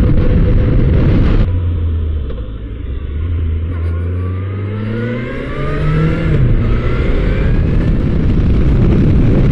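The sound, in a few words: Kawasaki H2 motorcycle riding on the road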